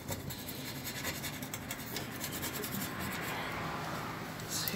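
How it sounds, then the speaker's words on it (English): A scraper works over a dirty stove top during cleaning, giving a soft, continuous rasping scratch with a quick repeated rhythm, close and fairly quiet, with no talk. "you can scrape this down to where there's not a speck on here"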